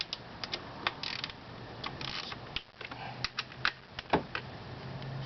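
An 8mm socket ratchet working bolts on a Honda NHX110 scooter, quick bursts of clicking pawl ticks in irregular clusters, fairly quiet and close.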